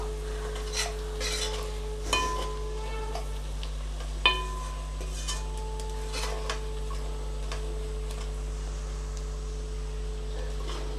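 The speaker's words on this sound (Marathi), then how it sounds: "हे बघा बेसन पीठ टाकल्यावर कसं फेस आला त्याला हे पण बेसन चांगलं भाजून घ्यायचं तेलामध्ये" Gram flour roasting in oil in a pan with onion, a faint sizzle under a steady low hum, broken by a few sharp spoon taps and scrapes against the pan.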